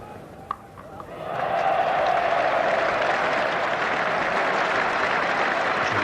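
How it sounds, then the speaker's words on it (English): A very big cricket crowd at Lord's applauds a fine stroke during a Test between England and West Indies, the clapping swelling after a second and then holding steady as a broad, continuous wash. "it's produced applause from both them, as well as from this very, very big crowd here at Lord's"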